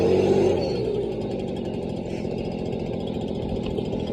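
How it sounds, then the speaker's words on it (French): A motorized atomizer sprayer runs steadily nearby, a close, continuous buzzing two-stroke engine drone with a rapid pulsing rhythm and a slightly louder start. "Là on est avec un atomiseur."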